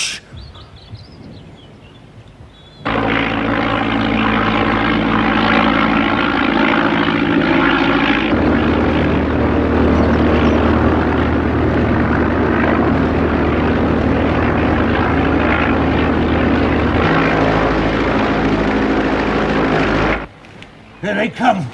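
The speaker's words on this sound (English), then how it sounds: "There are aeroplanes." After a quiet start, the loud droning roar of propeller aircraft swells in overhead and holds steadily, then cuts off near the end.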